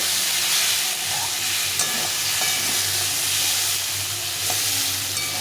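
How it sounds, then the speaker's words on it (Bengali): Boiled chickpeas with spices and softened potatoes fried together in a pan, a loud, close, continuous sizzle with occasional stirring scrapes throughout. "এখন সব কিছু একটু ভালো করে ভেজে নেব"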